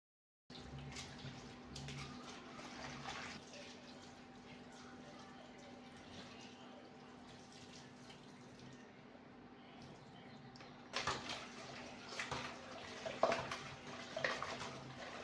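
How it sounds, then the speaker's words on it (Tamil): Mutton, chicken and liver are rinsed with turmeric in water: quiet running water and soft sloshing, growing into faint splashes and knocks near the end. "எல்லாமே வந்துட்டு மஞ்சள் தூள் போட்டு நல்லா அலசி எடுத்துக்கிட்டேன்"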